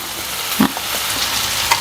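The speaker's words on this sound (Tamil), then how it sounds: "வெங்காயம் நல்லா வதங்கட்டும்" Onions sautéing in a pan, a close steady sizzle with a brief stirring scrape, alone and fairly loud.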